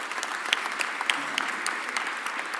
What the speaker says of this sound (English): let's give our mayor, Cherelle Parker, a real big round of applause